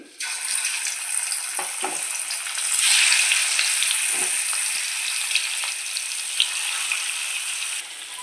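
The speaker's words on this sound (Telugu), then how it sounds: "ఇప్పుడు ప్యాన్ పెట్టుకొని ఆయిల్ వేసుకొని ఆయిల్ వేడెక్కిన తర్వాత చేప ముక్కలు వేసేస్తానండి" Pieces of fish, gummadichukka, fry in hot oil in a pan, giving a loud, dense, continuous sizzle up close that swells briefly and holds steady until it cuts off near the end.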